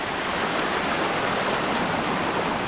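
The strong current of Gabur Gabur Falls in Peñablanca, Cagayan roars as a dense, loud, continuous rush of falling water, close and unbroken with no voices.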